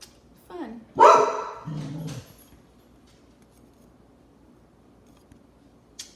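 A pet dog barks a few times up close, a short burst of sharp barks followed by a lower growling bark, then quiet room tone.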